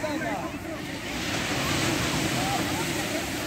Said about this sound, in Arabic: البحر اليوم شويه هايج